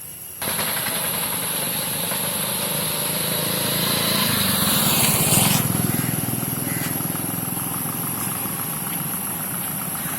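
A 2015 Mahindra Thar CRD diesel engine idles steadily and loudly close by on an off-road outing, a continuous rough drone with a brief swell in the middle.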